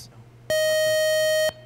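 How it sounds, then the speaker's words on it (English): A quiz-game time-up buzzer on a televised academic quiz sounds one steady, loud electronic tone lasting about a second, starting and stopping abruptly against a quiet background. "The buzzer got you."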